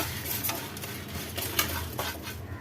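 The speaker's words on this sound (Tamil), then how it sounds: "இது எல்லாத்தையும் நல்லா ஃப்ரை பண்ணிக்கலாம்." Dried red chillies and garlic cloves frying in a pan for a mint and coriander thogayal, a soft sizzle under rhythmic spatula scrapes and light clinks against the metal, with no voices.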